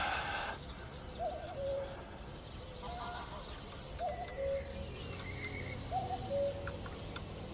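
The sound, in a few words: cuckoo calling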